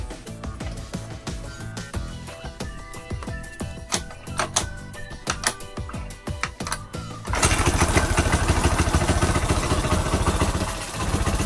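A small scooter engine on a magneto and battery-operated 4-pin CDI setup without a wire harness cranks with rapid mechanical clicking, then fires on one try and settles into a steady, loud buzzing idle, close by with no talking.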